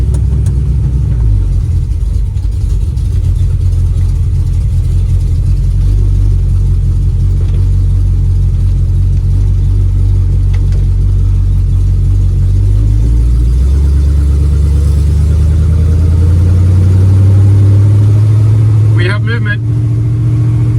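A 1936 Chevy Coupe engine idles with a deep, close rumble, then revs and climbs in pitch as the car pulls away, and settles back toward a lower drone near the end.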